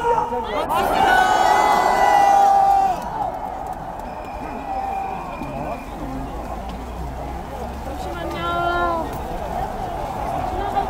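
Crowd at an outdoor rally and prayer meeting at Busan Station plaza, a loud dense swell of shouting voices that eases into a lower murmur, with amplified speech heard amid the noise.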